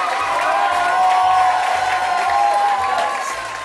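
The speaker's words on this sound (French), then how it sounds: "Je me demande si ça n'applaudit pas un peu plus fort de ce côté-là que de ce côté-là." Studio audience applauding and cheering at the start of a French television show, a dense continuous wash of clapping with whoops and crowd noise, close and loud throughout, easing slightly at the end.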